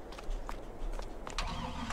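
A vehicle engine in Farming Simulator 22 cranks and catches, turning over unevenly into a low mid-pitched idle rumble with soft clattering, heard up close.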